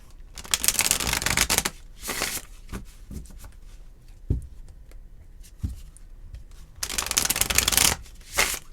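Tarot cards being shuffled by hand in several bursts of riffling and sliding, with quieter soft taps and card handling between bursts; no talking.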